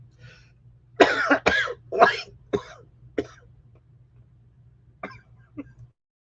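Someone coughs several times in a cluster of harsh bursts, then clears the throat with a few quieter coughs after a pause, close by.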